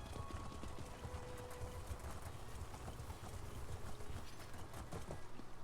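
Mount hooves clip-clop at a steady walking pace in The Elder Scrolls Online, faint and rhythmic over soft ambient game sound, with no speech.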